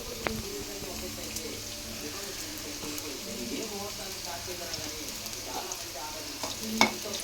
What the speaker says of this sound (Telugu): ఇప్పుడు మనం సన్నగా కట్ చేసుకున్న గార్లిక్ వేసుకుందాం.